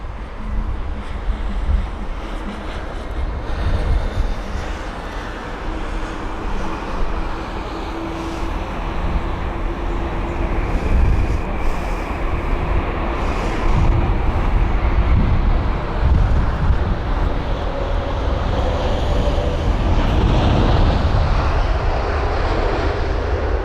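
A Boeing 787-10 Dreamliner arrives at London Heathrow, its jet engines making a steady, loud broadband roar that builds gradually and holds strong throughout, with no voices heard.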